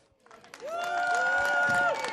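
Crowd noise and applause swell at an inline skating race in Osijek, a rush of clapping and cheering rising to a sustained roar while a voice talks over it.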